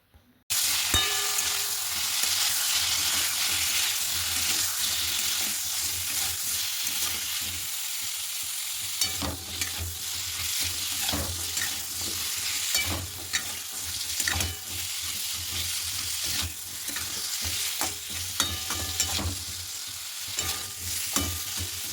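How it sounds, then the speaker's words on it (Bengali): Papaya pieces fry in a pan with salt, sugar and turmeric, giving a steady close-up sizzle broken by repeated scraping stirs, with no talking. "আর এদিকে দেখুন পেঁপে ভাজাটা বসিয়ে দিয়েছি"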